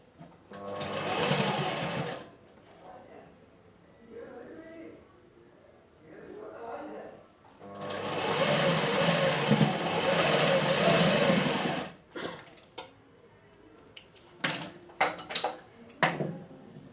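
A sewing machine stitches a dori bell design in two loud, sustained runs with quieter stretches between, ending in a few sharp clicks and short mechanical bursts, a voice speaking softly in the gaps.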